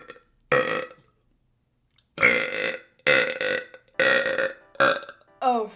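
A run of loud, drawn-out burps from a streamer, five or six bursts separated by short pauses, close and unmasked.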